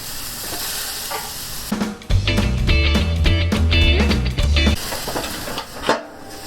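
Shish kebabs cooking over medium heat give a gentle sizzle, while a burst of tonal, rhythmic background music plays through the middle of the clip.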